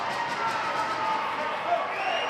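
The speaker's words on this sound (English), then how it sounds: "A lot of that cheering you're hearing is coming from the other rink" Distant crowd cheering drifts over from a neighbouring ice hockey rink during a youth game, a steady broad roar of voices lasting throughout, with talk in the foreground.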